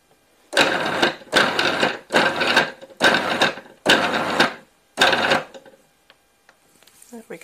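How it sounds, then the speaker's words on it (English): A food processor mixes low carb pastry dough in six short, loud whirring pulses of about half a second each, evenly spaced, followed by quiet clinks. "this just needs to be mixed together well in the food processor"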